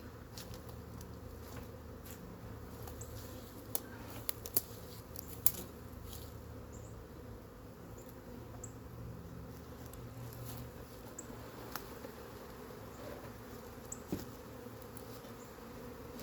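A wild honey bee swarm being shaken into a new hive fills the air with a dense, continuous buzzing hum, close and steady, punctuated by a few sharp taps and knocks.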